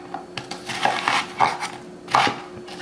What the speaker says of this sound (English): And just give them a little fine chop.